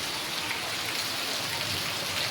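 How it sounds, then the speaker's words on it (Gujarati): Heavy rain pours steadily in Ahmedabad, a dense unbroken hiss of drops close by with no pauses. "ફૂલ વરસાદ ચાલુ છે અમદાવાદની અંદર"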